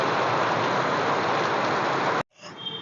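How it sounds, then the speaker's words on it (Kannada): Fairly heavy rain falling in a residential area with water running along the road, a dense steady close hiss that cuts off abruptly near the end, leaving faint quieter sound. "ಮಳೆ ಮಾತ್ರ ಸ್ವಲ್ಪ ಜೋರ ಐತಿ"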